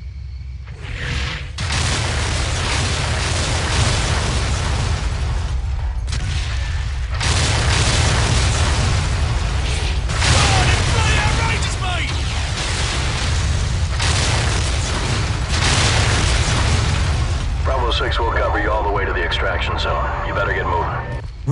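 Artillery strikes land in Call of Duty 4: Modern Warfare as a loud, continuous barrage of deep booms and blasts. Heavy rumble fills the scene with little break, and voices on the radio are heard under the explosions.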